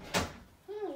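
A door closing indoors: one short, fairly loud thud, followed by a faint rising tonal sound.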